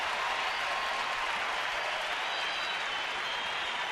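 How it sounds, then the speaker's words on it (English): A baseball stadium crowd roars and cheers after an over-the-shoulder catch by John McDonald, a steady, dense wash of noise from a large crowd with no break. "Listen to the crowd."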